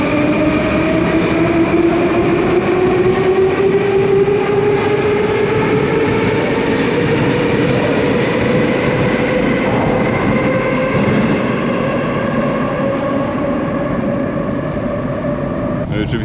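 A Moscow metro train pulls in and runs along the track, a loud sustained rumble with a rising whine of the motors, steady rail noise throughout the length, close and constant.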